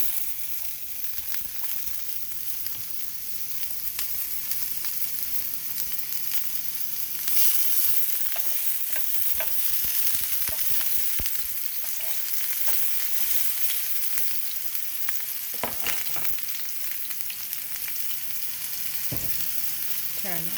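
Garlic cloves and chopped red onion sizzle steadily in a hot pan, a dense, even crackle that lasts throughout, with occasional stirring scrapes and clinks on top.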